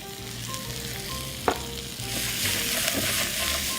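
Mushrooms warm in extra oil in a pan, a close, steady sizzle and crackle with a sharp stirring clack partway through, no voices.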